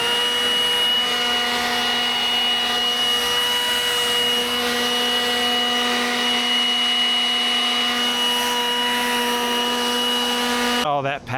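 A steady, loud whooshing air dryer blowing water off a Toyota GR86 after a wash roars without pause for about eleven seconds, a constant motorized hum with a high whine, cutting off abruptly at the end.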